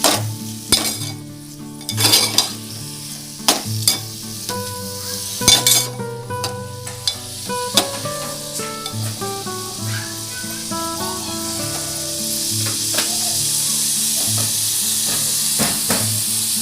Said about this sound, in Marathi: आता तेलामध्ये कांदा आणि टोमॅटो परतून घ्यायचा आहे